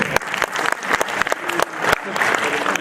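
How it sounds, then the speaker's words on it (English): An audience at a Rails 5 conference talk claps for a named contributor, with crisp individual hand claps and a moderate, uneven burst of applause that stays fairly close and distinct. "So, a big round of applause for Akira."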